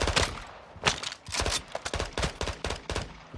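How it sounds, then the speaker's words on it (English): Rapid bursts of SMG fire in Call of Duty DMZ, close and loud, with short repeated volleys in quick rhythm throughout. "I'm trying to kill him with an SMG from a country mile away."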